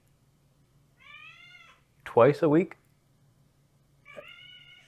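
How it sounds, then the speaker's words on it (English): A cat meowing twice, each a drawn-out, tonal meow close to the microphone, with a short spoken question between them. "My cat's warning me."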